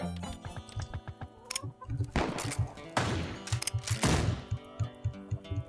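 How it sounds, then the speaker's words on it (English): Sharp bursts of Westerado video-game gunfire crack out in quick succession over about six seconds, several loud shots standing out above a steady soft clicking rhythm of game effects. "Man, don't be shooting me like that."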